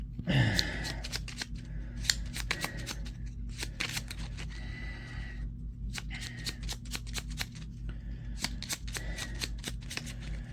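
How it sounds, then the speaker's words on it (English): Encounter cards for a fantasy board game are shuffled by hand in repeated riffle bursts, crisp rapid flutters coming in quick groups and separated by brief pauses, close and fairly quiet. "So now I've shuffled the encounter cards."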